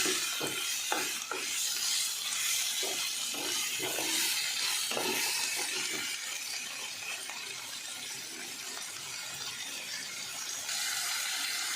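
Chicken with a spice mixture being stirred in a frying pan over lowered gas heat, a steady close sizzle with irregular scraping clatters of a spoon throughout, no talking.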